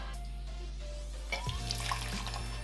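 Hot water poured off from a Keith Titanium Ti3911 pour-over coffee maker, a short close splash and trickle of liquid that starts about halfway through after a quiet stretch.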